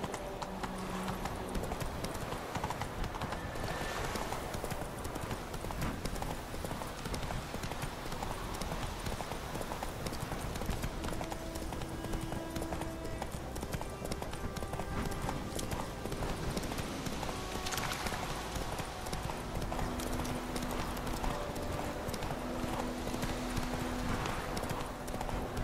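Horse hooves clip-clop steadily throughout a ride in The Witcher 3: Wild Hunt, a continuous rhythmic trot over the game's ambient background with faint occasional tonal sounds.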